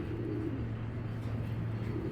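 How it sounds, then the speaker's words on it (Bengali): A super breeder pigeon gives soft, low, throaty coos in a continuous murmur, faint and close, with light background noise. "একদম সুপার বিডার কবুতর দেখাবো একটা"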